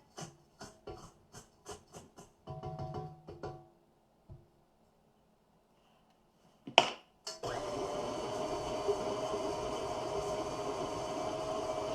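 An electric mixer beating cookie dough: first a series of short clattering pulses and pauses, a sharp knock, then a steady continuous whir that runs on to the end.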